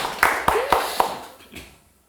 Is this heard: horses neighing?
no